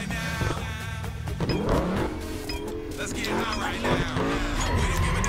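Car engine in a racing video game revving hard and over-revving, rising in pitch, with game music and a person talking over it throughout.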